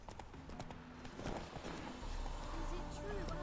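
Hooves of a horse galloping in The Witcher 3, a steady clip-clop rhythm running throughout at moderate loudness, with game music and someone talking over it.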